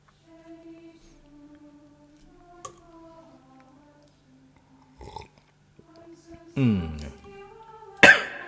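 Someone speaks quietly, then breaks off into a couple of sharp, close coughs near the end.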